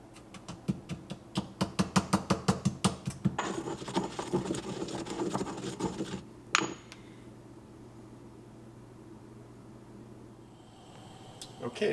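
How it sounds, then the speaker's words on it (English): Toasted spices for chana masala are pounded in a mortar: a quick, steady run of sharp thuds for several seconds, then rougher grinding strokes before a near-silent stretch with light movement. "it's going to go into the mortar to be ground up into a powder"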